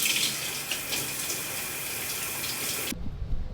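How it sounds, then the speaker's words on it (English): Cold tap water runs in a steady, close hiss for about three seconds before cutting off abruptly, leaving quiet room tone. "Let's rinse this off and get into the post shave."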